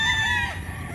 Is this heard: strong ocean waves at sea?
no